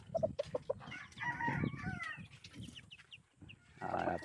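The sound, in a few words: chickens clucking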